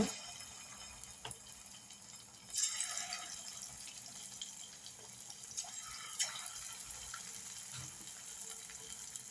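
Marinated kebab pieces dropped one at a time into hot oil give a quiet, steady frying hiss with a brief louder burst of sizzle and a few soft splashes; no one speaks.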